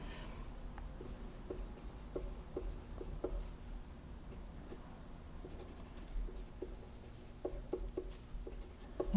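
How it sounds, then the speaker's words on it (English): A pen scratches across paper during a tutoring session, faint short strokes in scattered bursts over a low room hum, nobody speaking. "I'm going to write this down."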